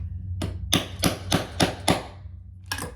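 Hammer striking a rivet into a clutch bag, six sharp close blows in a steady rhythm, then a pause and one final hit, over a low background hum.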